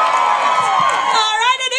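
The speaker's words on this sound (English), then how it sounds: "So who's cheering for Johnny?" A crowd of children and adults cheers and whoops loudly for lumberjack Johnny at a live lumberjack show before a wood-cutting contest, with shrill excited shouts rising toward the end.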